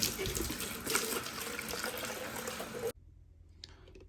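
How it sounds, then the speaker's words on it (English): A plastic container is rinsed under a running tap for nearly three seconds, a steady close splashing of water that cuts off abruptly, followed by faint quiet handling noises. "rinse it off real good"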